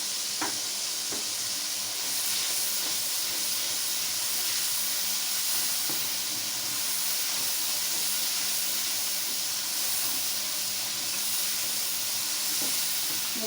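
Masala of red chili powder, salt and turmeric fries in a pan for an arvi curry, a continuous even hiss of steam and sizzle with a few faint stirring taps.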